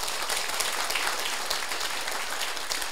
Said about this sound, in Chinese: 给鼓手拍掌